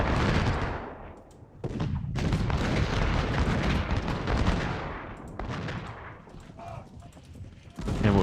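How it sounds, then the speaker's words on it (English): Artillery fire in the Ultimate General battle game: repeated loud booming cannon shots and crackling volleys overlap in dense bursts, with short lulls, no talking. "Artillery's doing its job."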